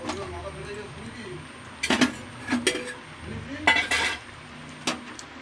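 A metal spatula scrapes and clinks against a wok while fried pointed gourd is stirred and lifted out, several short sharp scrapes over a faint sizzle, close by.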